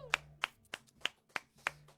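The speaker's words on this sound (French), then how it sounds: "On peut l'applaudir très fort." Sparse, evenly spaced handclaps at a French live-broadcast music concert, about seven sharp claps in two seconds, quiet and close, like one or two people clapping alone at home.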